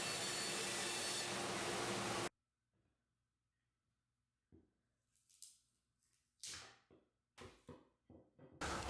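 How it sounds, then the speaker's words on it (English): A band saw cuts through a wooden charcuterie board in one loud, steady buzz. The cut stops abruptly and is followed by scattered light knocks and handling noises of the wood pieces. "went over to the bandsaw the next day to cut out my perfectly straight lines"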